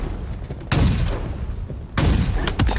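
Gunfire in Halo Infinite, with two sharp loud bursts of a weapon firing, each decaying into a noisy rumble, followed by a few quicker trailing shots near the end.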